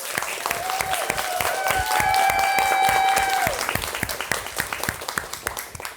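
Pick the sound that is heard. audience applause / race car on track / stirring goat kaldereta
audience applause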